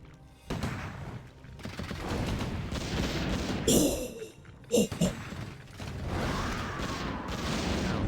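Five mortar teams fire in Warcraft III during a battle, a steady din of shots and booms with a few sharper impacts standing out, while a commentator talks over it.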